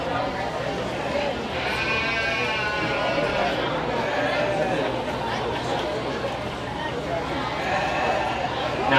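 Sheep bleat in a county fair show ring as senior sheep showmen enter, the calls rising over a steady crowd murmur and an announcer's voice.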